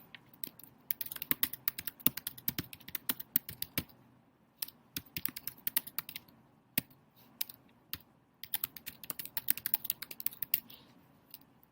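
Fast typing on a computer keyboard makes a dense run of crisp key clicks in irregular bursts with brief pauses, close and fairly quiet over a faint background hum.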